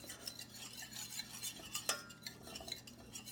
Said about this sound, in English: Mixing it around in the butter to dissolve it